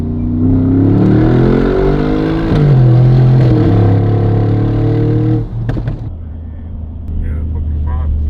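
A Brabus G63, a 6,000-plus-pound SUV fitted with downpipes, accelerates hard: a loud, close engine roar climbs in pitch through the gears, then drops back to a rumbling idle.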